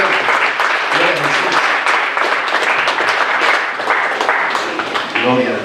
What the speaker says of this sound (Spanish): Denle un aplauso a Cristo. Déselo fuerte.